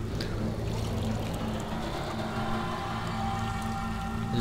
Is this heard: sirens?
no